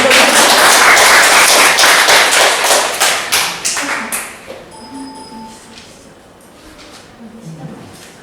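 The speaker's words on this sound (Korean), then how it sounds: "박수 한번 쳐드려요." Students in a Korean-language teaching practice classroom burst into loud, dense applause that tapers off after about four seconds, followed by quiet room tone with a faint tone and distant murmurs.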